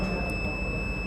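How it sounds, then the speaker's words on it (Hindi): A steady electronic continuity beep from a multimeter, its probes across a filter coil on an LED TV board, sounds loud and unbroken for about a second with no talking. "आपको सुनाई दे रही होगी बीप।"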